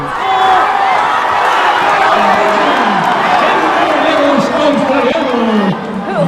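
A packed crowd at a Mexican lucha libre wrestling match roars continuously, loud and close, with whoops and shouted voices rising through the din.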